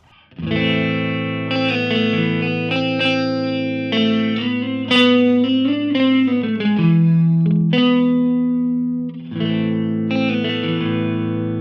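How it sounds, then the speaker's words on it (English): An electric guitar through a Two Notes Genome amp simulator plays sustained chords and notes, each one trailing into repeating delayed echoes that blur into a shimmering wash. "I'm gonna add a delay, turn this a little bit down, and turn the feedback a little bit down as well."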